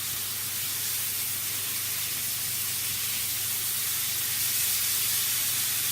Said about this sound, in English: I'm just going to turn my steak again